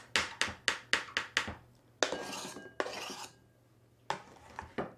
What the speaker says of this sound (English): So now I'm going to chop it up into small pieces.